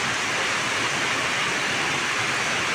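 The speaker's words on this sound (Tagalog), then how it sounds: "Ngayon, malakas na naman ang ulan." A steady, dense hiss of heavy rain pours down without a break in Siargao, loud and even throughout.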